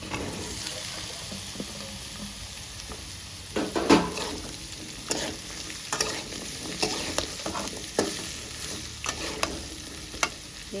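Ridge gourd pieces sizzle and fry in an onion tempering, a soft constant hiss broken by irregular clinks and scrapes of a spoon stirring the pan, fairly close and without talk.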